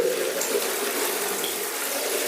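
Liquid septic tank treatment pours steadily and foams up, a continuous close rushing splash with a fizzing hiss layered on top, unchanging in level and free of talk.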